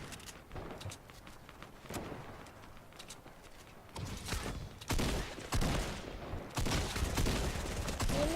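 Shotgun fire during the Fortnite volcano event, a run of sharp game gunshots in irregular bursts, some close and loud, others more distant, with no talking.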